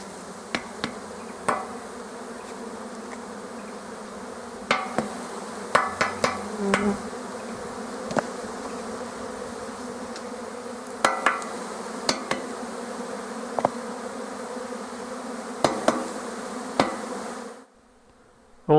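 Honey bees, worker bees, flying and buzzing around a hive outdoors, a dense continuous hum with frequent close fly-by buzzes and small knocks, steady and fairly loud before cutting off near the end.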